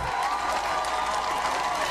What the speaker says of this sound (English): A crowd cheered in Louisville last night after city council voted to ban no-knock search warrants